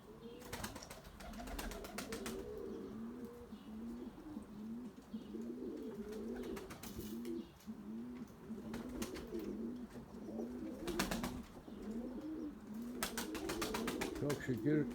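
Tumbler pigeons in a flock coo repeatedly in low rolling phrases, steady and fairly close, with faint chirps and occasional bursts of wing flapping over a quiet outdoor background.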